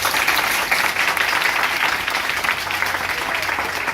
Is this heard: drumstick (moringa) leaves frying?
no